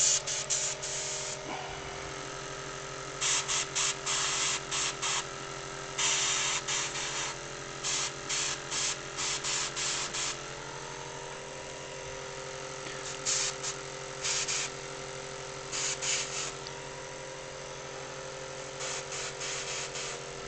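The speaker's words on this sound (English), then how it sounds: "It's actually quite difficult airbrushing over a camera" An airbrush sprays paint onto a miniature in repeated short hissing bursts over a steady compressor hum, each burst a second or so long, close and moderately loud, with no talking.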